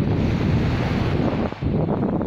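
Surf breaking steadily on an open beach with no rocks, a continuous close wash of waves with wind buffeting the microphone throughout.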